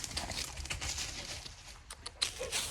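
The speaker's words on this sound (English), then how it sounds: "That's my dog running around," A dog running around close by makes a quick, irregular patter of paws and scuffling over a steady noisy background, with no one talking.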